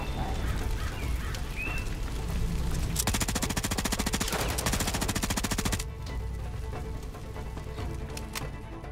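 Fast light machine gun firing in a competitive shooter video game, a rapid, steady burst of shots lasting about three seconds amid ongoing game noise, then stopping abruptly.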